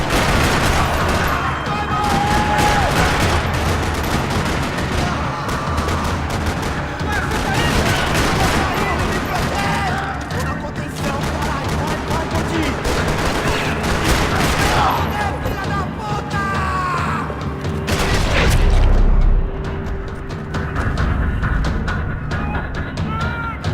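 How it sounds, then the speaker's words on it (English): Sustained gunfire rattles across a parking lot in Max Payne 3, dense overlapping bursts and automatic fire with a heavier boom near the end, loud and continuous with bits of voice mixed in. "Another parking lot rattling with gunfire."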